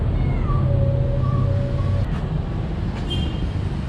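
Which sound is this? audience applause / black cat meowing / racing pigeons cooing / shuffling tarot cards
black cat meowing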